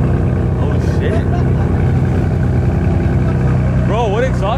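A car with a stock exhaust at a cars-and-coffee meet gives a steady, loud, low engine rumble that runs throughout, with people talking over it.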